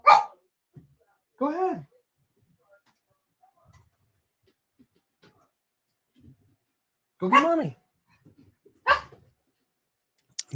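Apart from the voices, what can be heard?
dogs barking and whimpering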